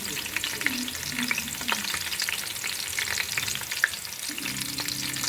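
Onions fry in a pan for South Indian bagara rice, a steady sizzle and crackle with occasional stirring scrapes, close and moderately loud with no talking.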